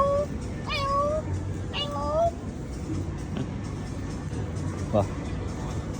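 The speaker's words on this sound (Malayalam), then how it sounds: "പൂച്ചയുണ്ട് നമുക്ക്" A cat meows two or three times, short rising calls standing out clearly over a steady low background rumble.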